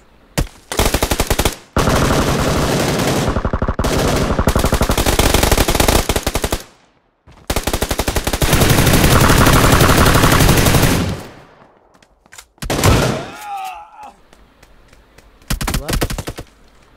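Rapid automatic gunfire in PUBG PC Lite: loud, dense bursts that stop and restart several times, ending in short broken volleys with a few sharp ricochet-like whines.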